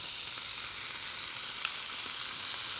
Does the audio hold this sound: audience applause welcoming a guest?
no